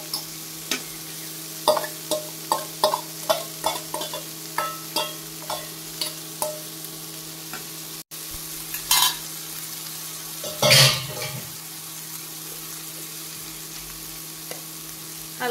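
Chow mein fries in oil in a pan with a quiet, steady sizzle. A spatula scrapes and clicks against the pan in a regular rhythm, and a louder clatter follows near the end. No one speaks.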